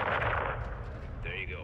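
Gunfire in the video game Call of Duty MW2: a loud burst of shots at the start, then a ringing tail and a whining high tone, heard without talk.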